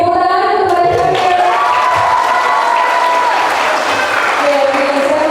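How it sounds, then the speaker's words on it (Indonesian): Audience applause for junior high school champions at a live talkshow, with loud sustained clapping mixed with cheering and shouting voices that rise and fall over it. "beri tepuk tangan kepada SMP"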